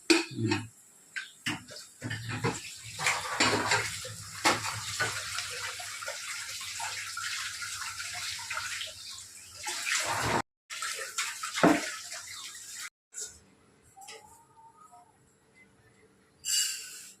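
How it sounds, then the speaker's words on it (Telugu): Rice is rinsed in water in a pot, with splashing, swishing and sloshing, metal clinks against the pot, and short pauses between bursts of washing; no voices are heard. "ఇది వేగేలోపు బియ్యం కడిగి పెట్టేస్తాను."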